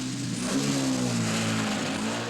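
A rally car on the Coupe des Alpes accelerates hard, its mid-pitched engine revving with a steady rising drone. The engine is fairly close and continuous, and a narrator speaks faintly underneath.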